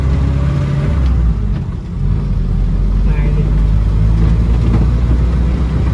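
An antique Fiat 1100 E car is driven on a test drive, its engine giving a loud, steady low rumble heard from inside the car, with someone talking briefly over it.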